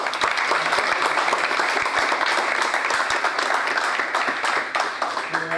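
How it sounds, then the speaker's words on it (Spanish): Audience at a Venezuelan electoral-system videoconference applauding two people, Pedro and Tania, with continuous close clapping of even intensity throughout and a few faint voices beneath. "Quiero pedir un aplauso también para Pedro y para Tania"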